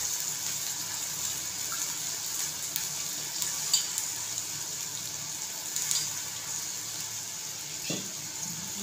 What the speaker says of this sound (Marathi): भाजी मस्त असं तेलात परतून घ्यायची.